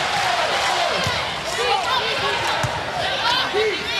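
A home crowd makes noise at a women's college volleyball match, Hawaii against Wichita State, a loud, continuous arena roar with ball thumps and shouts under it.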